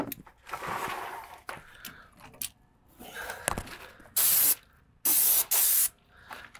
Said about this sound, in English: I'm gonna spray behind these pipes, underneath this electrical box.